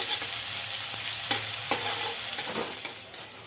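Thinly sliced onions frying in oil without salt into crisp birista for a meatless Bengali biryani: a steady close sizzle with occasional spatula clicks and stirring scrapes.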